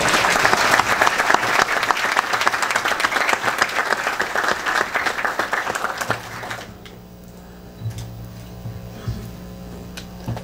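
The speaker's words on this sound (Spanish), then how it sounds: "Un aplauso, por favor." Audience applause at an engineering week event on industrial automation, full and steady for about six seconds, then stopping abruptly into quiet room tone with a few faint knocks.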